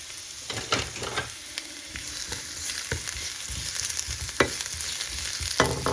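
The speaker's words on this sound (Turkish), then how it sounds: "Şöyle kabaklarımızı tavaya koyalım." Zucchini sizzles and crackles in a hot pan, cooking ahead of an omelette, with a steady frying hiss and several sharp clatters of stirring up close; no one speaks.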